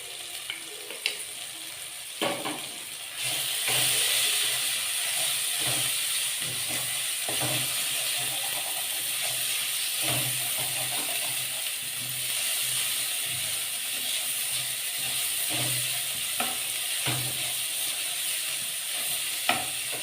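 Spices fry in a pan with mutton, pieces of kohlrabi and onion, giving a steady hissing sizzle that swells after a few seconds, with repeated soft stirring knocks throughout.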